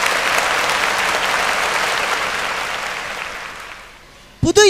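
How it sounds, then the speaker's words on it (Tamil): A Tamil New Year debate-show audience gives a speaker loud, steady applause that gradually fades out, followed by a voice starting to speak at the very end. "சித்தோடு வளர்மதி அவர்கள் நல்ல கைத்தட்டல்."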